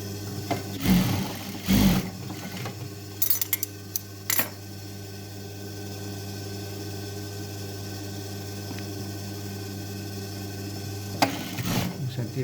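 A sewing machine stitches denim yoke pieces for a pair of jeans, running as a steady, close motor hum with a few sharp clicks and knocks near the start and again at the end.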